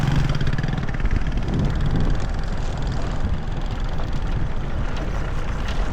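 Motorbikes hauling petrol and diesel up a mountain pass in northern Malawi drone and rev steadily nearby, a continuous loud engine rumble with no pauses.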